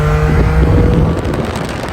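A Porsche GT4 cruises in sixth gear on cold winter roads, its engine a steady low drone blended with road and wind roar, loud and continuous throughout with no talking.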